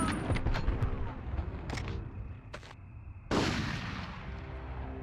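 Gunfire in the Medal of Honor video game: a run of sharp shots and bursts over a busy battle backdrop, then a louder blast about two-thirds through that leaves a lingering roar; faint speech in the background.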